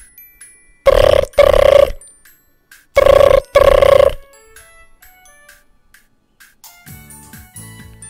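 An old-style telephone bell rings loudly in two double trills, brr-brr, then a pause and brr-brr again, followed by faint, light music as the ringing stops.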